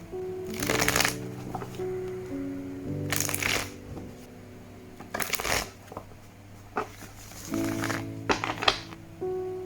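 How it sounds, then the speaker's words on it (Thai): Close, crisp shuffling of a tarot deck by hand comes in four distinct riffling bursts with pauses between them. A faint steady hum runs underneath, and there is no speech. "เดี๋ยวจะสับไพ่แล้วก็จะเริ่มดูกันเลยนะครับ"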